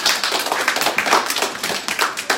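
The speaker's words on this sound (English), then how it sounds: "give a hand clap for the Most High" A gathering at a Feast of Dedication service claps hands together, a brisk, dense run of claps at close range with no voices.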